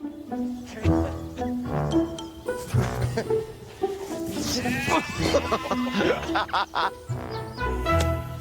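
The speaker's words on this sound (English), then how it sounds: "how do you even go about milking a skittish sheep?" Skittish sheep bleat repeatedly while being chased on foot without a sheepdog, their loud wavering calls overlapping at close range amid scuffling movement and bursts of human voice.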